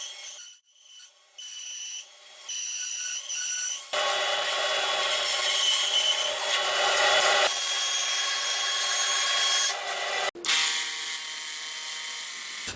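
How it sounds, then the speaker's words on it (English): Sandpaper rubs across the wood of a nylon-string acoustic-electric guitar to remove burn marks, starting in short strokes before a long, loud, steady stretch of sanding, a brief pause, then more. "I'm just sanding these burn marks and things out and smoothing everything out under here"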